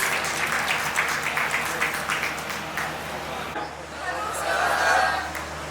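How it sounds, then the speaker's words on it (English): An audience at an intellectual property and patent filing seminar gives a speaker a round of applause, steady, dense clapping that swells slightly near the end, with faint crowd murmur and chatter mixed in. "Please give sir a huge round of applause"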